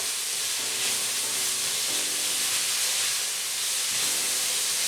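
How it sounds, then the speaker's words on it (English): Onions caramelizing in a pan for curry chicken give a continuous loud, even hiss that stays steady throughout, with a faint low hum underneath. "The onions are caramelizing nicely and fast, and all the moisture is leaving them very soft and edible."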